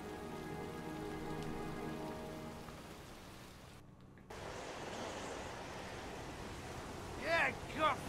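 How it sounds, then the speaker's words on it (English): Heavy rain pouring in the video game Heavy Rain, a steady dense hiss of drops on surfaces that cuts out briefly partway through, then resumes with a few brighter tones near the end. "It's pouring rain."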